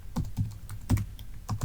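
A few quick keystrokes on a computer keyboard, close and clear, irregular taps over under two seconds with no speech.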